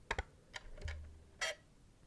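A few quiet mechanical clicks and a brief whirring buzz, then a short sharp chirp, like a small camera powering on close by.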